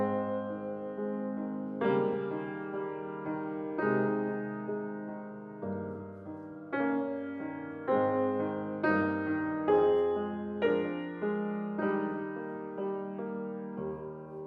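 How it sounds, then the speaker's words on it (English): A piano plays the second movement of Beethoven's Pathetique Sonata, slow sustained chords with a singing melody on top, each phrase swelling and decaying softly, with no talk. "Same thing with the second movement of the Pathetique Sonata."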